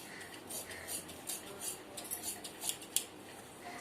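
Scissors snipping blouse fabric for the sleeve pieces, a series of short, fairly faint metallic cuts at uneven intervals.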